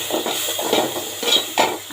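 Spices of turmeric, chili powder, green chili paste and ginger-garlic paste fry in a pan for masoor-style dal, a close crackling sizzle broken by several scraping stirs and clinks of the spoon against the pan.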